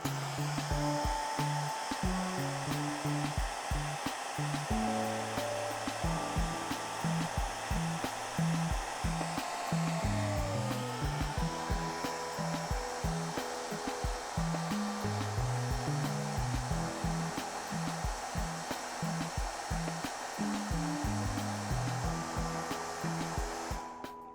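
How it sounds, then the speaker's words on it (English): A hair dryer blowing steadily and loudly up close to dry paint on a fan magnet, its constant whirring airflow running throughout, with faint background music beneath. "Blow dry."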